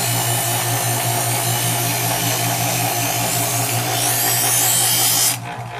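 A Chef'sChoice 120 Diamond Hone EdgeSelect electric knife sharpener polishes a knife edge with a loud, steady grinding whir that cuts off abruptly near the end.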